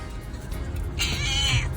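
A stray cat with newborn kittens meows once, a clear, fairly loud harmonic cry rising over a quiet room background.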